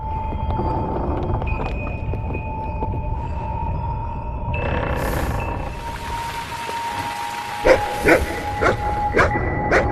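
A run of short, sharp dog barks near the end of the clip, over a steady electronic hum and tones in the soundtrack of the video game The Cave.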